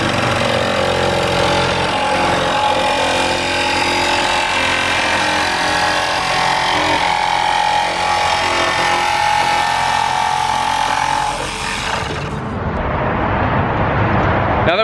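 A power saw blade cuts a fan opening through the sheet-metal roof of a Sprinter van, a loud, continuous harsh buzz running for several seconds before dropping away near the end.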